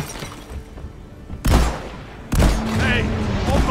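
Gunfire in a multiplayer video game during friendly fire: two sharp bursts of shots a second apart, each ringing out into a rattling tail, with faint background noise between and no clear talk.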